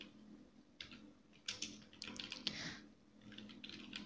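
Computer keyboard typing in short bursts of quiet clicky keystrokes, close and soft, with brief pauses between runs, no talking.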